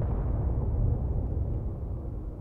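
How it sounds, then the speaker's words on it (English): A deep, rumbling explosion in a space video game, a sustained low boom that rolls on without a sharp attack and holds steady throughout, with no talk over it. "I heard an explosion."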